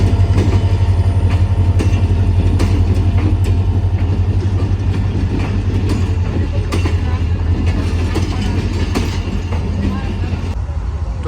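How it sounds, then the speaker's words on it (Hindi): An AG 30 diesel locomotive idles at a station beside passenger coaches, a loud, steady low rumble with metallic clanks and clicks scattered over it, while someone talks throughout. "ये मेरा फेवरेट लोकोमोटिव और लाहौर शहर की जान AG 30 आ चुका है ट्रेन की लीड पे लगने के लिए"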